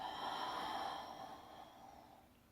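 One long, soft exhale through the nose, close and breathy, fading away over a couple of seconds during a floor exercise.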